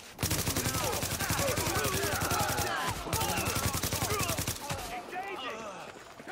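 Sustained automatic weapon fire in Tom Clancy's The Division, a loud, steady rattle of rapid shots running for several seconds with brief pauses and faint game voices shouting underneath.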